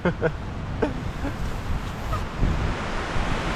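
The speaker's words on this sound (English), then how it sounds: "Oh my god, it's so windy." Strong, gusty wind buffets the microphone at an exposed campsite in horrendous weather, with a steady roaring rush and louder gusts, and a few faint bird calls scattered through.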